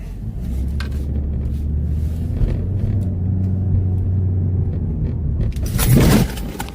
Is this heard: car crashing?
yes